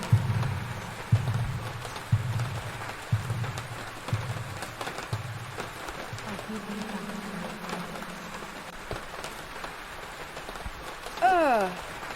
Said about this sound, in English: Is it raining blood?